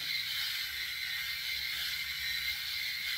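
A nine-head electric shaver runs over a bare scalp, catching hair with a steady, faint buzzing whir and a fine ratcheting texture, close up and without any talking.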